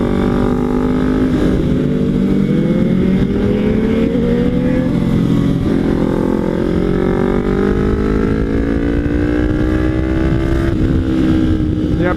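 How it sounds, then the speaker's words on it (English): Mopeds on a large group ride make a loud, continuous engine drone, with layered pitches that rise and fall as the machines accelerate and ease off, close by and unbroken throughout. "I think it's the mopeds that are slowing us down."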